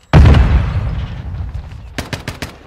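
Gunfire in the Modern Warfare 2 beta video game: a loud, sudden burst of shots right at the start, trailing off into a rumbling decay, followed by a quick run of four or five sharp cracks near the end.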